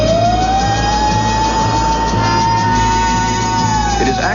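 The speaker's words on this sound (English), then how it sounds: "Ed, would you give us a short blast on the siren" A steady siren wail holds a rising then level tone for a few seconds over a low engine drone, loud and close, then cuts off.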